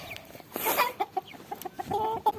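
A hen and a small white rooster give soft, quick clucks while being carried by hand into a coop, with rustling and handling noise around the faint calls.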